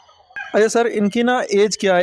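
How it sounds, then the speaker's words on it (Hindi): Chickens and roosters cluck and call loudly on a poultry farm, repeated bursts of close fowl vocalizations packed into two seconds, with a voice asking a question over them. "सेहतमंद मुर्गे। और इनकी आप आवाज़ें भी सुन सकते हैं"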